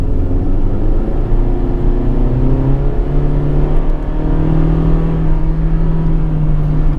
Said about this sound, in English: when you give it a lot of throttle, you get a lot of noise, and that's across all CVTs